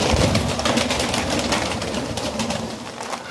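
Giribaz breed pigeons coo in a dense, continuous flock chorus, the overlapping calls loud and close with a steady rushing background and no pauses.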